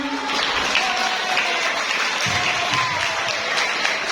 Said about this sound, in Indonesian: Tepuk tangannya yang meriah